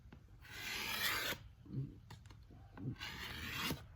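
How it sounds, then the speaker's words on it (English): A razor blade scrapes an old automatic transmission gasket in a few long, gritty rasping strokes, with shorter scratches in between. The sound is close and moderately loud, with no voices. "Get our handy dandy razor blade."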